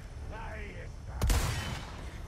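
A gunshot blasts loudly near the middle of a Resident Evil 4 Remake fight, a single sharp crack with a lingering rumble, after a quieter stretch with faint voice-like tones in the background.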